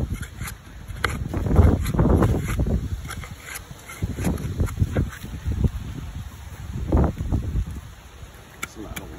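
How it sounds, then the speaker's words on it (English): Gusty wind blows outdoors beside beehives during frame cleaning, buffeting the microphone with rumbling surges that rise and fall over several seconds, joined by faint rustling and small clicks. "It's a lot of wind."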